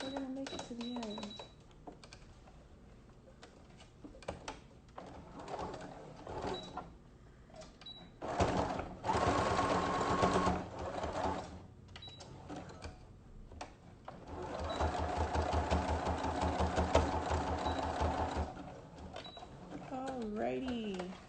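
A home sewing machine stitches a fabric face mask in bursts, its rapid mechanical whir rising loud and steady for a few seconds, pausing, then running again, with someone talking softly between runs.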